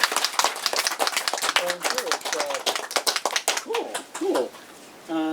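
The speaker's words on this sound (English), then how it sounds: "So first, let's give Renata a round of applause for" Audience applause at a talk on oracle divination, a burst of dense clapping that thins out into scattered claps and a few voices, ending with a short tonal sound.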